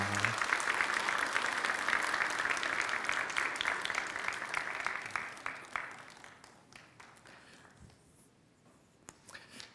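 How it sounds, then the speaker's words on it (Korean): A church congregation claps together during a Sunday service, a dense steady burst of applause that gradually thins into scattered claps and fades out near the end. "우리 박수로 축복해 주시기 바랍니다."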